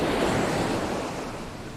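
Sea waves wash onto Lamai beach on Koh Samui in rough conditions, a broad, hissing surf roar that stays close and steady, fading slightly toward the end.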